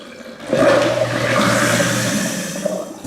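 A kitchen sink garbage disposal whirs steadily as a quarter-full basin of water drains through it, a loud continuous churning rush starting abruptly and running alone to the end.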